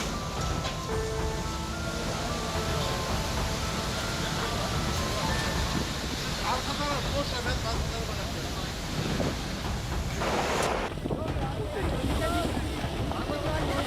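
Floodwater rushing past during a natural flood, a loud, continuous broadband roar and wash that persists throughout, with turbulence and wind-like noise, shifting in tone near the end.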